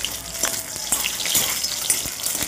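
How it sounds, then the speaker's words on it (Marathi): Peanuts frying in hot oil in a pan, a steady crackling sizzle with small pops throughout and no talk. "अशी दाणे तळून घ्यायची"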